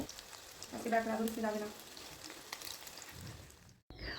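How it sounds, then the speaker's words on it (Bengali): Fish deep-frying in oil, a soft, continuous bubbling sizzle heard fairly quietly, with a short burst of talk early on and a brief dropout near the end. "যেহেতু আমরা ডুবো তেলে মাছগুলো ভাজছি"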